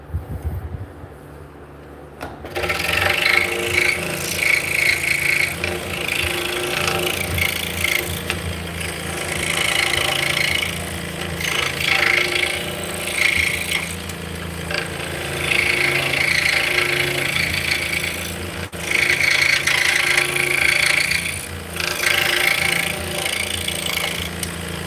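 A scroll saw cuts a rectangular mortise in a wooden piece, a steady close motor whine with continuous buzzing blade chatter running throughout after a brief quiet start.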